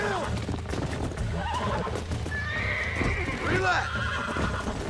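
A horse in a video game gives a sharp, close whinny over rhythmic clip-clopping hooves, with a voice speaking briefly around the sounds.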